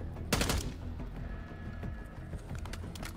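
Gunfire in Call of Duty Black Ops 6 on PS5: a sharp loud burst of shots early on, then further scattered reports, with game sounds and a brief voice around them.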